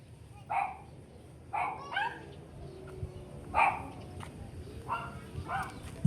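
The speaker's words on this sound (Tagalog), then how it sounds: "JK, may aso dyan ha" A dog gives several short, separate barks and yips at moderate distance, spaced about a second apart, while background voices murmur faintly.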